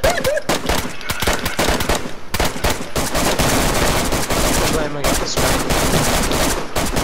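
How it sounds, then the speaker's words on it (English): DayZ gunfire, loud rapid automatic bursts and single shots firing close and nearly nonstop, with occasional shouting voices mixed in. "Stop shooting!"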